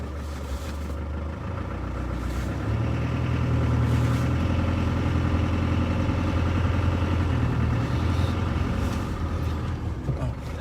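A Land Rover Defender engine drones steadily while driving on a farm, a continuous mid-pitched rumble that swells slightly midway, heard close with no talking.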